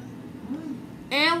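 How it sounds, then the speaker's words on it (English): A single loud, drawn-out meow breaks in near the end after a stretch of quiet room noise. "Stop meowing, Sabine."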